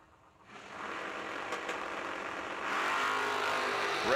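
Drag race cars launch down the strip at the 3rd Annual Summer Fling, a loud engine roar that swells in after a quiet start and grows stronger partway through, heard from the track side.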